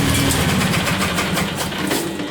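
A small engine on a machine idles steadily, a close, continuous low rumble with a fast even rhythm that runs alone without pause or voices.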